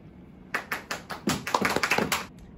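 A school assembly applauds the new class captains: scattered claps swell into a brief round of quick, fairly close hand-clapping that fades after two seconds, with no voices over it.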